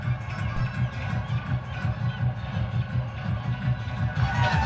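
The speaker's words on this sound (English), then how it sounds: "Crowd enjoying each and every moment right now." A cricket stadium crowd at a Legends League Cricket T20 match between Mumbai Spartans and India Tigers cheers in a steady, pulsing roar from a distance, with chanting rhythm and a swell near the end.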